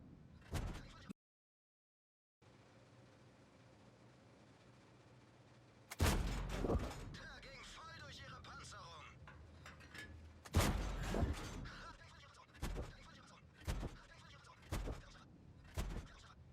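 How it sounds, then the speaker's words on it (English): Panther tank cannon in World of Tanks firing at short range, with several loud booming blasts spaced a second or two apart over a low engine rumble and mechanical clanks. "I'm in a Panther and I'm gonna fire 10 rounds at short range"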